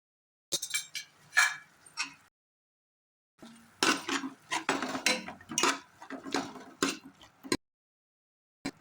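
Peanut powder stirred into beetroot kootu in a pan: scraping and clinking of a utensil against the metal pan in two bursts, close and moderately loud, separated by a short silence.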